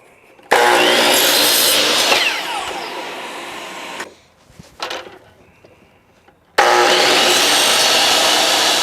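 Wood being sawn into parts for a crate with a power saw, loud continuous cutting in two bursts separated by a quieter pause with a few small knocks, no talking.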